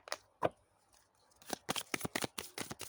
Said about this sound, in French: Je vais prendre une carte ici.